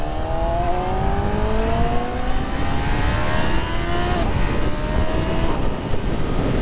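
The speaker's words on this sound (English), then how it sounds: "Lepo funkcioniše quick shifter." A 2019 Yamaha R6 sport motorcycle accelerates hard, its engine note climbing loudly and then dropping briefly as the quick shifter snaps through a gear change, with steady wind rush throughout.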